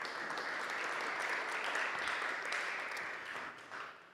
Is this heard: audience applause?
yes